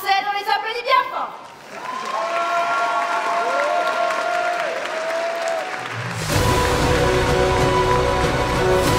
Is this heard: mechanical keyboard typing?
no